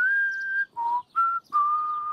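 A character whistles four clear, sustained tones with short gaps, alternating higher and lower pitches, close and alone without talk.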